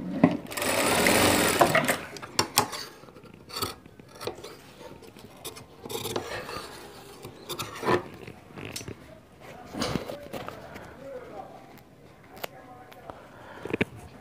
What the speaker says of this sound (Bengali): আমরা শেরওয়ানিটাকে সেলাই দিব।